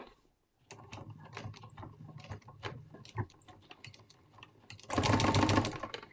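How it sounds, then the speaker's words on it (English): A sewing machine with a walking foot starts a lock stitch while binding a quilted wall hanging, giving a soft, steady mechanical patter of stitches that swells into a louder fast run near the end. "I'm going to start with a little lock stitch."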